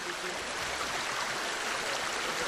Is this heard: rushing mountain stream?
yes